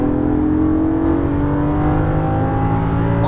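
A Lamborghini Gallardo LP550-2 pulls hard on a racing circuit, its engine note climbing steadily in pitch as it accelerates. The sound is loud and close, heard from inside the car, with no talk over it.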